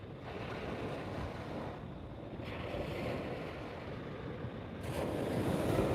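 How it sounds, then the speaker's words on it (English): Surf and gusting wind at Sosua Beach in the Dominican Republic form a constant broad wash of waves with heavy wind buffeting on the microphone, swelling louder toward the end. "This is Sosua Beach."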